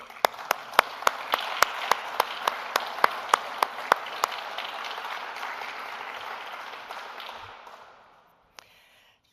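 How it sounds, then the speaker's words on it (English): Graduation ceremony audience applauds for an executive MBA class, broad clapping punctuated by a few sharp, evenly spaced loud claps near the microphone, gradually fading out before a brief quiet tail. "This applause is only for you."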